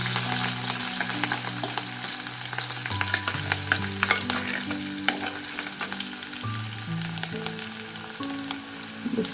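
Curry leaves crackle and sizzle in hot oil just after mustard seeds finish popping, as mango pickle is being made; a steady loud frying hiss runs throughout with scattered sharp spits and a low hum underneath.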